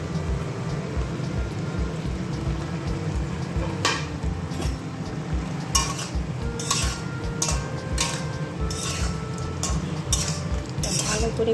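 Chicken kosha is stirred and sautéed in a pan, with a spoon scraping and clinking against the metal at irregular intervals over a steady sizzle and kitchen background.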